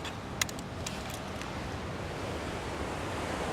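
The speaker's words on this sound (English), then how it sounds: "There's still waves getting up this far" Ocean waves wash steadily up a rocky beach in a broad, even hiss of surf, with a faint rush of wind across the microphone and a soft knock near the start.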